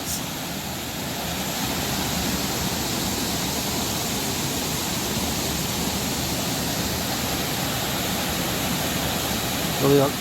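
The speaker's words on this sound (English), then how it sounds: "Not a super tall waterfall, but a very scenic waterfall." Hemlock Falls, a short but scenic waterfall at Moccasin Creek State Park in northeast Georgia, pours with a steady, loud broadband rush that fills the whole stretch, with no talking over it.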